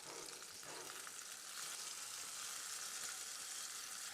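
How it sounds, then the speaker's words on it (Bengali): Cauliflower and tomato frying in a covered pan, a soft, even, continuous sizzle heard faint and muffled at close range, with no talking. "এবার এ পাশটাও আরও 3 মিনিট ভেজে নিব।"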